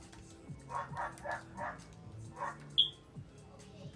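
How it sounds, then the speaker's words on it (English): Several dogs bark in quick bursts at a moderate distance, a few overlapping yips, with a sharp high chirp near the end. "I apologize for the dogs."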